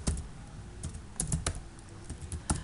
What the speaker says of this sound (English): simply go to Google, you can type anything